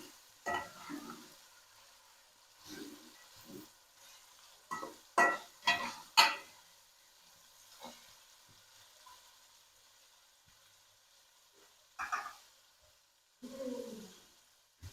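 Chicken and capsicum stirred in a frying pan, with scattered scraping strokes and soft sizzling in uneven bursts, close and moderately loud, no voices.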